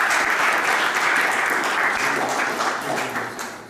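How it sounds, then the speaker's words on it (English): An audience at a youth event claps in steady, dense applause that fades slightly toward the end. "Round of applause, please."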